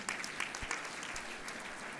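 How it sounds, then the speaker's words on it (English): An audience applauds a Sri Lanka delegation rising at a total literacy gathering. The clapping is dense, steady and continuous, filling the whole moment without a break. "Give them an applause if you will."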